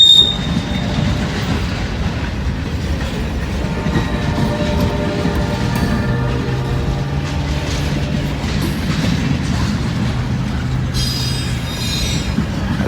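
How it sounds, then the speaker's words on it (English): A long train hauled by several locomotives rolls over a track switch while changing tracks, its wheels squealing in drawn-out high tones over a continuous loud rumble and rhythmic rail clatter, with no talk. "Changing tracks."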